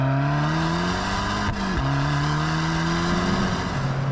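A Fiat Abarth 595 Competizione engine revs hard and loud up close, pitch climbing steadily, dipping briefly at a gear change, then rising again in a raspy, sporty howl.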